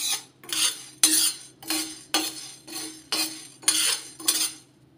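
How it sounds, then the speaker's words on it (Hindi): Whole black peppercorns dry roasting in a pan for garam masala, stirred in a steady series of about nine rasping, clinking scrapes that swell and fade one after another, close and fairly clear. "काली मिर्च भी भून लेंगे।"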